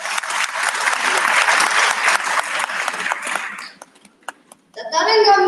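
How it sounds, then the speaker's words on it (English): An audience applauds loudly after a dance performance at an arangetram, a dense burst of clapping. It breaks off into a few scattered claps, then a voice begins speaking. "Let's have another round of applause for this performance."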